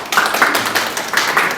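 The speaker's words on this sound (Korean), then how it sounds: "박수로." Scattered hand clapping at an academic meeting, a few people applauding together in a small room in an uneven, brief burst, fairly close and without speech over it.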